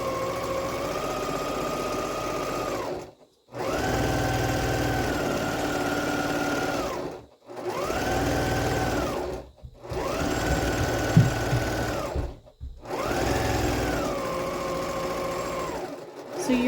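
A sewing machine top stitches a quilted pillow shut along its raw edge, whirring steadily and close in four sustained bursts, each separated by a brief pause, with no talk.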